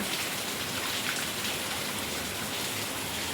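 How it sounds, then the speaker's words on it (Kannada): Heavy rain pours down steadily outdoors near a house, a dense, even hiss of drops drumming on surfaces, loud and unbroken with no voices. "ಮಳೆನೂ ಫುಲ್ ಜೋರಾಯ್ತು ಇವಾಗ"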